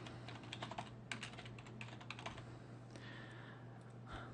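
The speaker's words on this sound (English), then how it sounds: "we can type in our keyword" Someone types a keyword on a computer keyboard in quick, uneven bursts of soft key taps. The sound is faint and close, with a low steady hum underneath and no talking.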